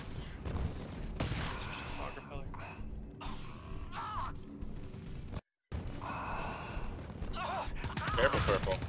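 Rapid bursts of video game gunfire against hybrid enemies in a squad shooter, crackling steadily throughout with a brief silent gap midway, under players talking.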